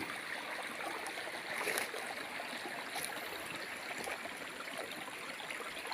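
Water flows steadily through a forest creek running low after several dry days. The rushing, burbling wash is continuous and moderately close, with no voices.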